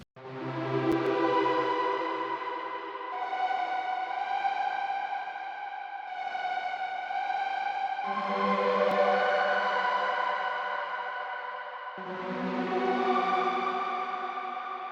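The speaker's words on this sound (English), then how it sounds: "I changed around a lot of these effects to give it like that real distorted super saw sound" Distorted supersaw synth melody from a Serum preset, thick with chorus and echo, playing sustained stacked chords that shift every few seconds, loud and steady with no voices.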